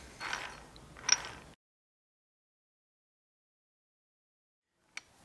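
Transmission gears of a Honda CRF250R engine are turned by hand in first gear, giving a few close, faint ratcheting clicks and clatters, then silence before one last short click.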